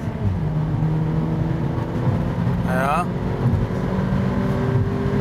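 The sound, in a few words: Mercedes-AMG A45 engine revving at high rpm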